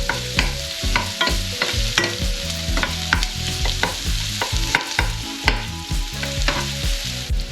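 Onion sautéing in a frying pan for carbonara-style fried potatoes, with a steady sizzle broken by repeated sharp spatula scrapes and stirring knocks against the pan, close and moderately loud.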